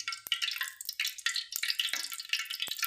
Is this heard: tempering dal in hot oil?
yes